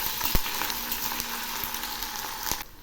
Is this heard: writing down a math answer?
no